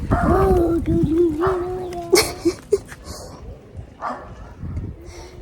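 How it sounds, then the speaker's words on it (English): A small, fluffy dog in Jamaica gives whiny yips and a few sharp barks close by, with other household sounds around it. "Somebody's dog a bark after me."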